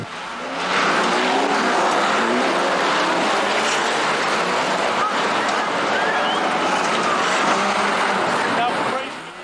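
Banger racing cars roaring off at the start of a race, a loud sustained wash of engines building after a quiet first moment and holding steady, with a voice talking over it.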